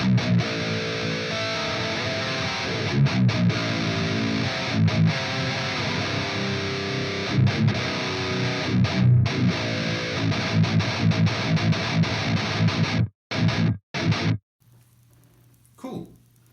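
Distorted electric guitar riffing through a Wagner Überschall amp model in the STL Tonality Will Putney plugin, heavy chugging chords with rhythmic stops and short gaps near the end, played alone.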